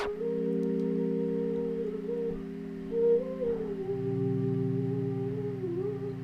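A music sample pad with a width and panning effect plays sustained, hazy synth tones whose pitch bends and slides, with the low layer shifting partway through.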